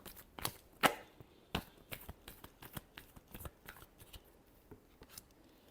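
Tarot cards are shuffled by hand in a series of quick, crisp flicks and soft slaps, irregular and close, with no talking.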